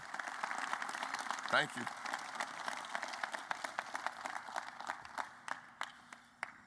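An audience at a men's basketball coach's introductory press conference claps steadily throughout, a moderate, even patter of many hands, while the coach briefly says thanks over it.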